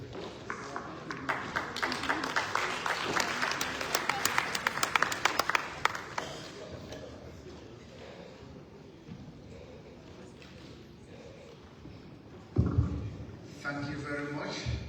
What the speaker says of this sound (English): Another round of applause for this time for all of us.